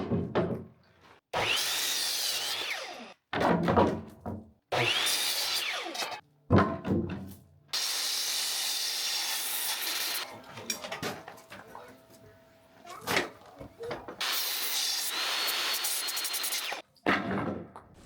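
Wooden boards for pig shelter walls being cut with a power saw in several loud bursts, the motor whining between pauses, with knocks and clunks of handled lumber in between.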